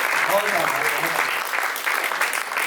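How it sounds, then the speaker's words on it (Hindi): Audience applause at a Hindi kavi sammelan and mushaira poetry gathering, a dense sustained clatter of many hands filling the hall for a few seconds, steady and fairly loud throughout. "एक बार जोरदार तालियां इनके लिए बजा दीजिए"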